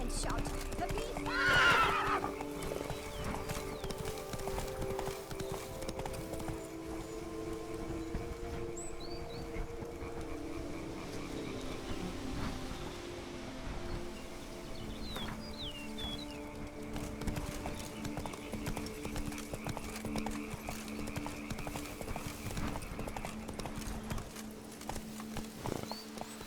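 Roach the horse in The Witcher 3 gives a sharp whinny near the start, followed by steady clip-clopping hooves as it moves, with music and game ambience underneath.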